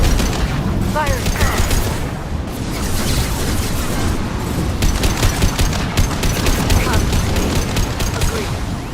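Rapid bursts of automatic gunfire and weapon sounds in the video game Mass Effect 2, dense repeated shots in clusters with booms beneath, loud and close, mixed with game voice chatter.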